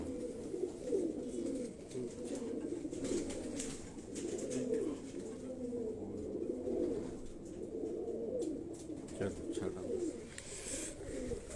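Soft, continuous pigeon cooing fills the clip, a low throaty murmur repeating throughout with faint rustling behind it.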